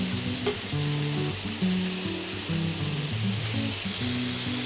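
Burger patties sizzle in a crowded frying pan on a stovetop, a steady loud hiss of fat and juices with a low tonal hum underneath throughout.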